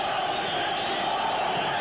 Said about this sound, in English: The crowd trying to encourage its champion, shouting, "Mexico, Mexico."